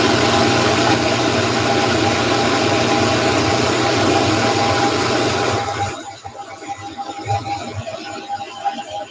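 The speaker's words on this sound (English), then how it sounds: "So this is a Champion grinder." A Champion grinder, used in bread making and fitted for a juicer attachment, runs with a loud, steady, close mechanical whir that cuts off after about six seconds, leaving quieter room noise.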